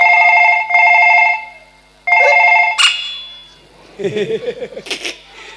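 An old-style telephone bell rings loudly in two bursts in a comic folk-theatre stage scene, followed by a brief electronic chirp and some excited vocal sounds near the end.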